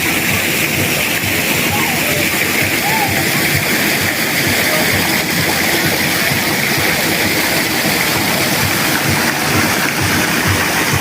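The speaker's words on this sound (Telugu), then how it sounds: "వాటర్ ఫాల్స్ అండి ఎంత బాగా పడుతున్నాయంటే" A waterfall at Siddipet pours in a steady, loud, unbroken roar of rushing water that fills the whole stretch without a pause.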